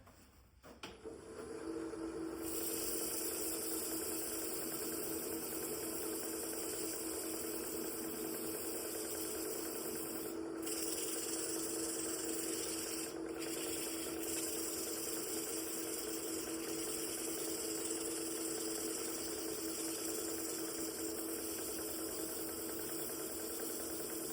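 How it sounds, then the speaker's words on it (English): Steady motor whir of a power sander running continuously on a wooden bowl with 180-grit paper, close and unchanging, with a couple of brief scraping touches partway through. "I'm just going to sand this"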